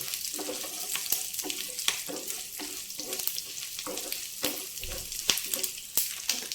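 Ghee tempering sizzles in a pan for sambar: a soft, steady frying hiss with light stirring taps and clinks throughout, fairly quiet and with no talking.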